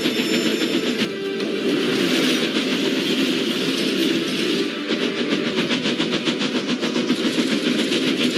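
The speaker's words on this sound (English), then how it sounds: "The Queen's train glided into the station." Steam engine train rolling into a station, a loud continuous rumble of wheels and carriages with steady clickety-clack rhythm, close by throughout.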